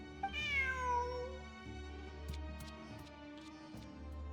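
A single drawn-out cat meow from a video game rises and then falls, clear and close, followed by faint light clicks and soft game ambience with no voices.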